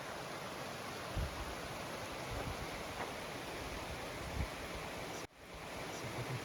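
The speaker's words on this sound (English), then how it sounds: "this is Cascade Creek." Cascade Creek on the Colorado Trail flows with a steady, broadband rush of water that fills the whole scene at close range, with no talking over it.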